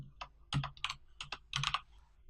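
Short bursts of typing on a computer keyboard while coding, several quick clustered key clicks close to the mic, quiet, with brief pauses between bursts and no talking.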